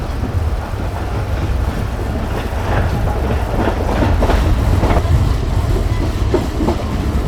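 The Millat Express, a Pakistani passenger train hauled by an HGMU-30 locomotive, runs toward a station with a steady loud rumble and rhythmic clickety-clack of wheels on rail joints, heard from on board.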